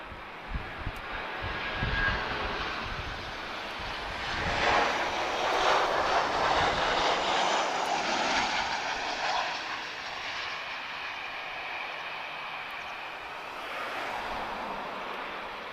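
A jet airliner touches down at Lisbon Airport, its engine roar and rumble swelling to a broad, steady loudness in the middle before easing into a long, distant, sustained drone.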